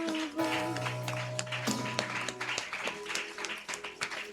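A church congregation claps and calls out in acclaim for Jesus during a sermon, a lively mix of hand claps and raised voices with an organ-like tone sustained underneath early on.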